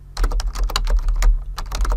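Quick, uneven keystrokes clatter on a computer keyboard, close and clear, a rapid burst of clicks with short pauses between words.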